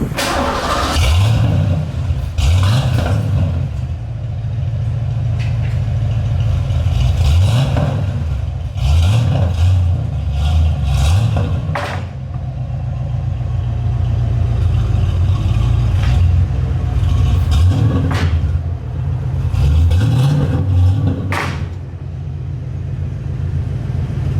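A loud Foxbody Mustang engine with SLP Loudmouth open exhaust dumps cranks and fires, then revs repeatedly in sharp bursts that settle back to a rough, rumbling idle between pulls.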